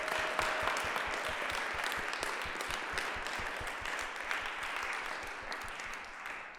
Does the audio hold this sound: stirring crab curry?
no